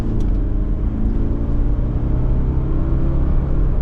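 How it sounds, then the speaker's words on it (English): A 2025 Subaru Forester Premium with all-wheel drive pulls away after a tight turn, its engine rumbling low and steady with a continuous close road hum from start to finish, no voices. "The all-wheel drive just grips it right around and off we go."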